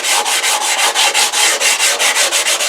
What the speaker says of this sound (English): use some sandpaper. This is 150 grit silicone sandpaper, so you want to smooth out the airflow to make it more efficient.